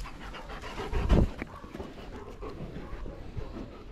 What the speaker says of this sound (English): talking about Gordana's dogs, and I finally came here to film them